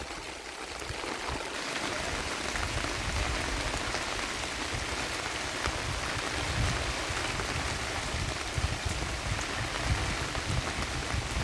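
Heavy rain falling steadily over a hilly Idukki farm estate with tea and spice plantings, a dense continuous hiss of drops on surfaces, close and unbroken, with no voices.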